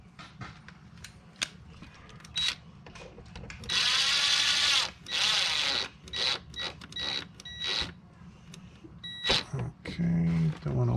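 A power driver running a screw back in while Tesla mud flaps are fitted against plastic trim, heard as short whirring bursts with a longer run in the middle, mixed with clicks and handling noises nearby.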